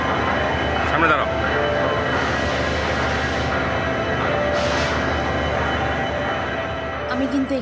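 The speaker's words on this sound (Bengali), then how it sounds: "এই যে ট্রেনের আওয়াজ, রিয়েল আর আশেপাশের আওয়াজ" Yeshwantpur to Vasco express train rumbling steadily on the rails, with a loud continuous roar of wheels and carriages, faint squeals and surrounding station and passenger noise, and a person speaking briefly over it.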